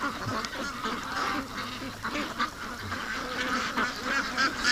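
Ducks quack and chatter continuously at a lake, several birds close by calling in overlapping bursts with no speech.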